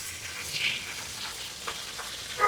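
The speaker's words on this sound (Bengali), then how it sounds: "তেল দিয়ে একটা একটা করে ট্যাংরা মাছ দিয়ে দিব" Tengra fish fry in oil over a clay stove, giving a faint, thin sizzle with a few brief crackling spurts, and no voices.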